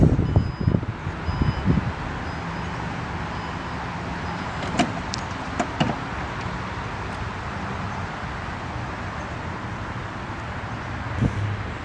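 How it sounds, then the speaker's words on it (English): The power liftgate of a 2011 Porsche Cayenne S motors shut with a steady electric hum and ends in a few sharp clicks and a latching thunk. "The power liftgate closes with the push of a button."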